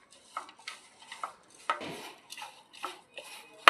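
Spices such as turmeric, salt, coriander, cumin and red chili powder being stirred with tamarind in a metal pan or bowl for bitter gourd curry, giving a series of light scraping and clinking utensil sounds at close range.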